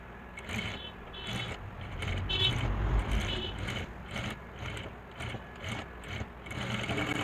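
A sewing machine runs stitching along the neckline of a lehenga blouse, a steady close mechanical whirr with rhythmic ticking that holds throughout without pause.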